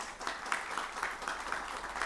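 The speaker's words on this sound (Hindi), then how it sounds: "स्वागत कीजिए, जोरदार तालियों के साथ हमारे साथ बैठे हैं।" A studio audience applauds in welcome of YouTuber Manish Kashyap at a News18 interview, heard as fairly faint, steady clapping with a loose, regular pulse of louder bursts.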